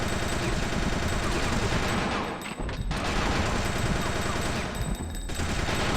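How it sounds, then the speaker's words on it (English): Sustained assault rifle gunfire from the video game Fear Effect 2, a loud continuous rattle of rapid shots broken by two short pauses. "This is pretty much what I was saving the assault rifle for."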